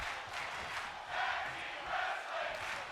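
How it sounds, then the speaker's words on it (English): Arena crowd noise from a tag team wrestling match in the WWE 2K26 video game, a steady roar of chanting and shouting that swells in waves throughout. "Crowd chanting tag team wrestling."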